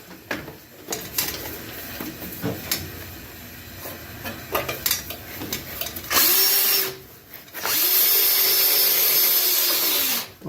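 A power drill bores through the rear fender of a 1991 Sportster, with scattered clicks and handling noises first, then two sustained high whining bursts as the bit cuts, close and fairly loud.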